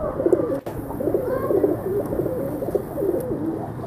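A Teddy pigeon with white eyes coos in a continuous low, rolling stream of throaty phrases close by, with faint clicks in the background and no talking.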